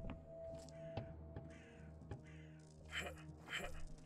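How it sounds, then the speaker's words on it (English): Birds caw in the Doom-engine horror game Dismantled: a few harsh crow-like calls stand out against a steady droning ambience, the loudest two coming close together near the end. "There are birds, I don't like that."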